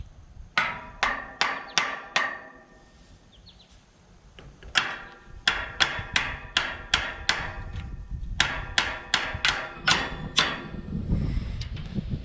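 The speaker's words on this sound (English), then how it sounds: "Might get a hammer and tap on it a little bit" A hammer taps on a stuck linkage of a rake in quick bursts of four to six sharp metallic knocks, separated by brief pauses, close and distinct with no talking.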